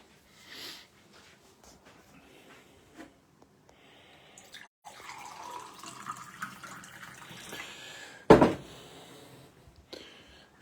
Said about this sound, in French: je crois que je vais me prendre un autre verre d'eau